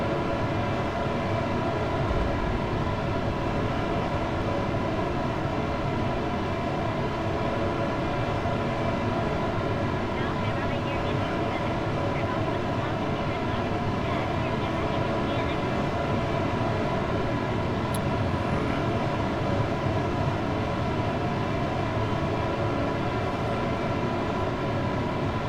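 A rocket in a video game ascends through transonic flight with a dense, unbroken engine roar that holds loud and steady throughout, with no talk.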